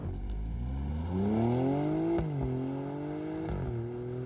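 Alfa Romeo Stelvio Quadrifoglio V6 exhaust rising in pitch as the SUV accelerates hard, with two quick gearshift dips and the engine note climbing again, loud and close.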